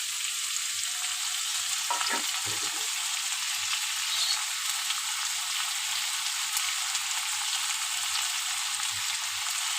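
Garlic paste, ginger paste and chopped tomato sizzle steadily in a pan as an egg curry gets going, a loud, even hiss that holds throughout, with a brief stir of the pan near the start.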